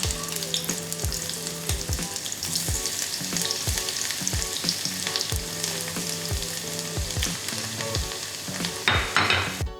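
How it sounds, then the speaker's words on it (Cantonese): Sliced ginger and garlic frying in hot oil mixed with Sichuan peppercorn oil in a small pot, a loud, dense, steady sizzle that lasts throughout, with light utensil clinks and a burst of crackle near the end. "加入薑片同蒜片爆香"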